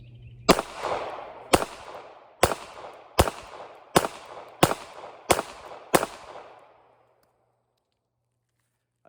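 Eight shots from a Ruger LCP Max pistol ring out one after another at roughly even intervals, each a sharp loud crack with a short decaying tail, and the last leaves quiet range air.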